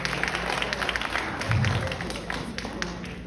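A crowd applauds at a high school graduation party with dense, steady clapping and scattered taps. It sounds close and fairly loud, with some crowd murmur and voices mixed in.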